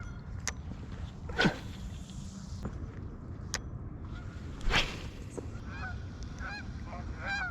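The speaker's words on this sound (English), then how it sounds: "There's the geese." Geese honking by a lake below a dam, a few distant honks against a steady outdoor background of water and shuffling footsteps on rocks, with softer chattering calls toward the end.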